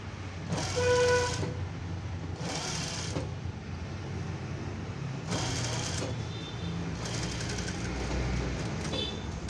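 Electric sewing machine stitching a princess cut blouse, in several short, faint bursts of rapid needle whirring separated by quiet pauses.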